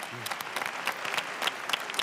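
Audience applause breaks out at a conference session with African presidents in Europe, steady clapping with some voices.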